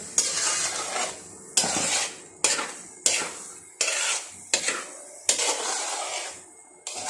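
Gajar halwa, grated carrot, being stirred and roasted in a kadhai over a low flame, with a rhythmic series of scraping, sizzling strokes, about eight close, loud sweeps of the spoon against the pan.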